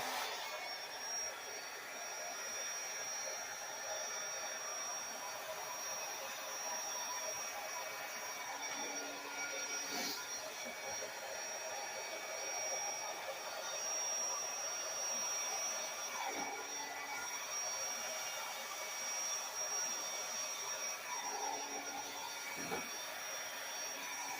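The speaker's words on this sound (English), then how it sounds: "I'm going to finish blowing drying it. I'm going to dry it out." A hair dryer blowing across a wet acrylic pour painting on a 20x20 inch canvas, a continuous close whooshing drone with a faint high whine and slight shifts as it moves, no talking.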